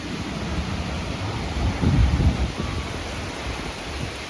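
An evening thunderstorm in Plum, Pennsylvania brings steady rain and wind noise, with a low thunder rumble swelling briefly midway.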